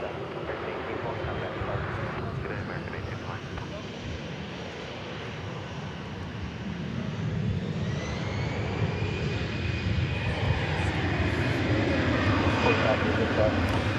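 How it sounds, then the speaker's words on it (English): A Korean Air Boeing 777 freighter takes off at Dallas Fort Worth airport, a broad steady engine roar that swells louder over the last several seconds, with a rising whine and people talking faintly beneath it. "Korean Air cargo flight 277 taking off for Guadalajara, Mexico. It'll be a 777 freighter"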